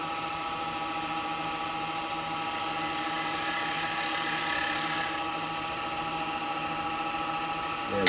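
A wood lathe spins an ash bowl as a traditional turning tool cuts, giving a steady, even whirring whine with a faint high ringing, heard up close with no talk.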